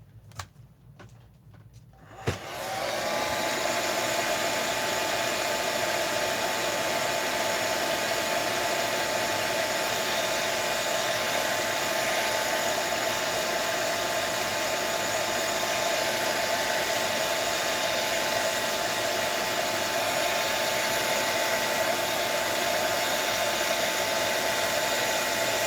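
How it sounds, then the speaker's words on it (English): A blow dryer drying paint in mixed media artwork switches on after a quiet moment and runs continuously with a steady, loud whooshing hum for the remaining time. "Let me just go back over this with a little bit more blow dryer."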